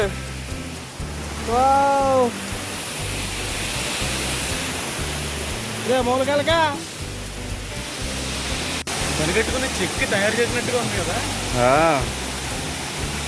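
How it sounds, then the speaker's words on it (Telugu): Rampa waterfall at Rampachodavaram roars as a steady, dense rush of water throughout, with people talking over the continuous wash. "మొత్తానికి రీచ్ అయ్యి ఉన్నాం రంప వాటర్ ఫాల్స్ అనమాట ఇది"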